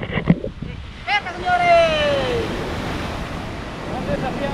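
Rough, furious sea waves churning around a fishing line while fishing from rocky shore, with a steady roar of surf and wind noise under a voice.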